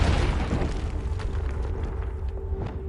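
A Confringo fire spell in Hogwarts Legacy bursts loud and close as a rumbling explosion, followed by a crackling, decaying tail with scattered pops, heard without speech.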